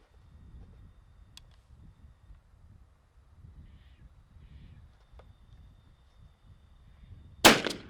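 .410 shotgun firing TSS turkey loads outdoors, a single loud sharp report arriving near the end after several seconds of quiet ambient noise and faint scattered sounds.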